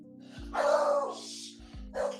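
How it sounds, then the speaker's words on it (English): Dogs barking outdoors, a few sharp barks and yips in short bursts over a steady low hum, moderately distant and fairly quiet. "Now the dogs are barking."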